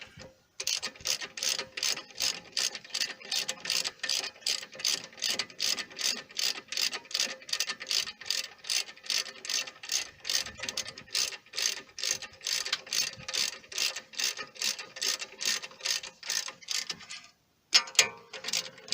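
Ratchet tightening 18 mm brake caliper bolts on a 2013 BMW 535i: a long, steady run of rapid, loud metallic clicks close by, pausing briefly near the end before a few more clicks.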